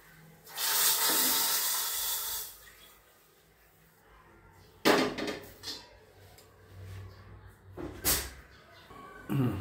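A sudden loud hiss and sizzle as hot tempering splashes into misal curry, fading after a couple of seconds, followed by shorter bursts of sizzling and clatter.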